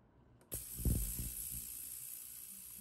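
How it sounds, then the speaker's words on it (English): An ultrasonic cleaner switches on with watch movement parts inside, giving a thin, steady high-pitched hum and hiss after a faint click, plus a few brief low rattles of parts settling, quiet and close. "I'm going to put these in my ultrasonic cleaner, and this is while the rest of the movement's going too."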